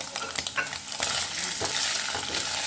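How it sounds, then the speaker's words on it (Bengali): Paneer cubes fry gently in oil, a dense steady sizzle close to the microphone with a few soft clinks and stirring scrapes early on, and no voices. "একটু হালকা করে ভাজবো যেহেতু আমি পনির পোস্ত বলছি পনিরগুলো আমি সব তেলের মধ্যে দিয়ে দিলাম"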